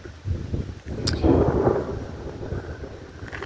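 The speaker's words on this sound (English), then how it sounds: "Crashing thunderstorms." A thunderstorm in North Carolina rolls in with a loud, close crack followed by deep, sustained rumbling thunder that swells and slowly fades over steady rain and wind noise.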